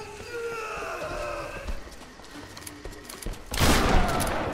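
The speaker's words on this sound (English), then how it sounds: "Dude, that shotgun is gnarly" Shotgun blasts and gunfire in the Tomb Raider video game, a few sharp reports amid game music and effects, ending in a loud burst of noise.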